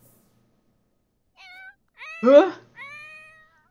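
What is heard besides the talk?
cat meowing in The Sims 4 video game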